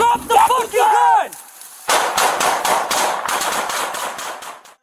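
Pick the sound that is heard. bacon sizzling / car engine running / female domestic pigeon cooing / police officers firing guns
police officers firing guns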